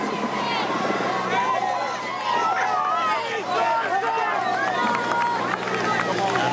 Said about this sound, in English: a big crowd making their presence felt, cheering on these tough men